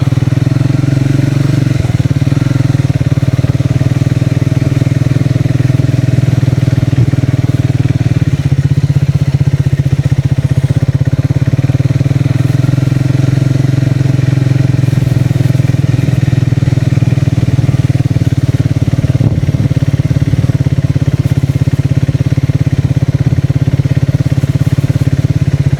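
Motorcycle with a pillion rider travelling on a sandy road, its engine droning loud and steady up close for the whole stretch with slight shifts in pitch and a faint clatter, no talk.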